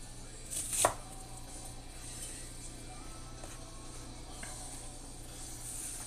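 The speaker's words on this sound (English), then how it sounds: "Usually when I would cut a red onion" A knife cuts through a red onion on a board, with one sharp chop near the start and a few faint cuts later over a quiet, steady room hum. No one speaks.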